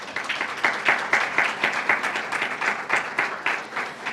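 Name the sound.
audience applause at a conference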